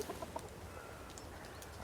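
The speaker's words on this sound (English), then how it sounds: "These are our composting chickens." Chickens clucking faintly while they dig through and turn over a small compost pile on a farm in rainy winter weather, a few soft clucks at the start and then quiet steady background noise.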